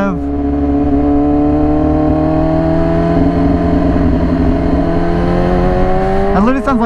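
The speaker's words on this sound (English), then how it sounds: "Give him a little rev." Yamaha R6 motorcycle with a very loud aftermarket exhaust, idling with a steady throbbing drone for several seconds before a sharp rev flares up at the end, close and loud.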